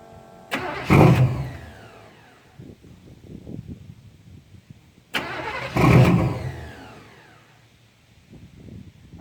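A 1989 Cadillac's engine cranks and catches twice, each attempt a short burst of starter whir and engine roar that fades back down, with quiet gaps between.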